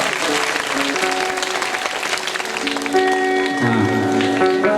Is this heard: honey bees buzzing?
no